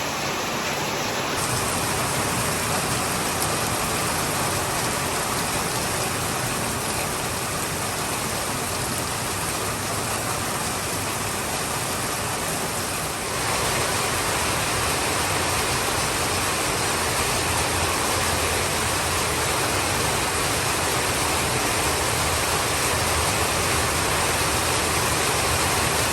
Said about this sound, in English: Wow, now it's coming down good. I'm glad we needed this rain.